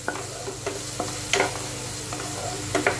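Vegetables and tomato sizzle and fry in a pan while being cooked for Maggi, with a steady low crackle and occasional scraping stirs, close and moderately quiet.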